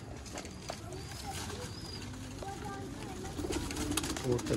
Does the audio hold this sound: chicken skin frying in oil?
no